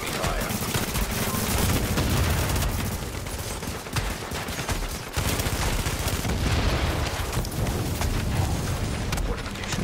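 Dense, sustained gunfire pounds a fortification in The Division, a continuous loud barrage of overlapping shots and rumbling impacts with a brief lull near the middle, with voices mixed into the noise.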